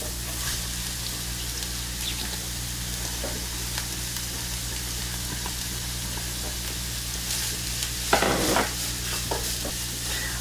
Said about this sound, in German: ich gebe jetzt einfach mal diese eine mittelgroße Zwiebel rein und brate die ein bisschen an. Und die Möhren gebe ich auch gleich mit dazu.